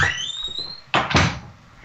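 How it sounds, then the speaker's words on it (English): A squeaky door gives a rising, high-pitched creak, followed by two loud thuds as it knocks and shuts, close by and with no talk. "And that was just my squeaky door, if you heard that."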